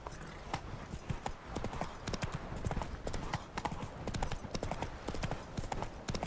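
Horse hooves in the video game Witcher 3 clip-clop in a fast, rhythmic gallop, close and steady throughout, with a faint voice briefly in the background.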